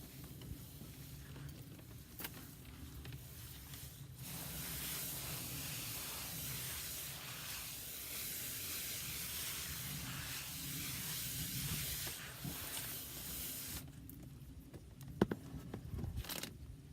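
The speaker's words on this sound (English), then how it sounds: "Just spray it down just a little bit. Get the soil moist." Water sprayed from a hose onto garden soil in a homestead sweet potato bed, a steady close hiss lasting about ten seconds before cutting off, with a few small clinks near the end.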